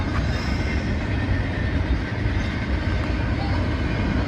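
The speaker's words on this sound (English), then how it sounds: "Train passing by on Route 66." A train rumbles past steadily throughout on Route 66 in Seligman, Arizona, a continuous heavy roar of rolling wheels with faint voices in the background.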